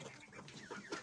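Poultry cluck softly in a damp farmyard, a few faint, brief calls scattered close together at low volume.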